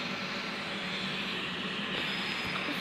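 A Class 377 four-car electric train departs Redhill station as a steady, broad rumble and rail hiss that holds at close range throughout, with no voices.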